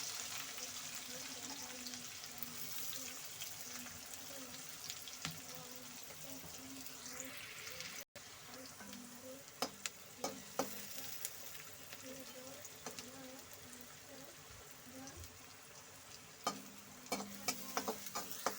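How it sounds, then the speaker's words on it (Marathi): Finely chopped onion frying in oil with curry leaves in a pan for bitter gourd curry, a soft steady sizzle with occasional stirring clinks and scrapes, fairly quiet and close, while a voice talks intermittently. "आता याच्यामध्ये बारीक चिरलेला कांदा टाकूया"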